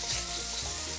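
Chicken sizzles in a hot skillet coated with nonstick spray, giving a steady hiss with soft crackles throughout the short moment.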